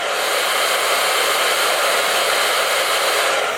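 A hair dryer blowing steadily at close range to dry wig glue during a wig install, a loud, unbroken rushing whir that holds at one level throughout with no voices.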